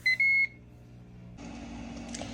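An air fryer set to preheat on air crisp sounds two bright electronic beeps up close, then a steady low whir of its fan.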